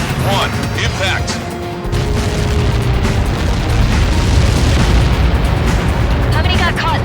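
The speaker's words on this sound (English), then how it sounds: "How many got caught in that explosion?" A Helios projectile explodes in the Ace Combat 7 combat game, a loud, sustained rumbling boom that fills the clip from about the two-second mark. Radio-style voices talk over it.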